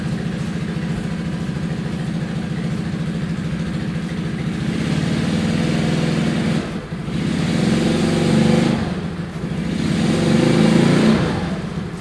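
An old Yamaha Mio scooter engine is revved during an RPM test, a steady close engine drone that rises in several throttle surges toward the end, with no talking.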